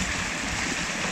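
Water gushing steadily from a village pump set, a continuous close rushing wash with no break over a brief moment.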